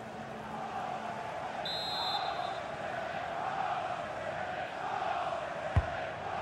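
A stadium crowd in a FIFA 22 match between Manchester City and Crystal Palace roars as a steady, loud wash of cheering and chanting, with a sharp thump near the end.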